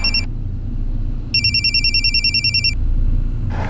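A telephone bell rings in a steady electronic trill, starting briefly then ringing again for over a second, over a low background hum.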